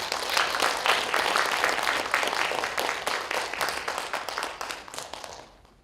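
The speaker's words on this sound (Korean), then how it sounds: "우리 이경철 시인님 나올 때 큰 박수 부탁드리겠습니다" Audience applause greets the poet Lee Kyung-chul as he comes to the stage at the 2021 Nam Gu-man literary festival, a dense steady clapping that fills the room and then fades out at the end.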